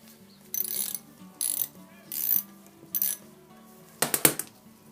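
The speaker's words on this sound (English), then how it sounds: "Let's see if I can get a socket small enough for that nut there." A socket ratchet works a nut on the carburettor of a 1984 Honda VF750F motorcycle, with four short bursts of quick clicking, then a louder metallic clatter close by.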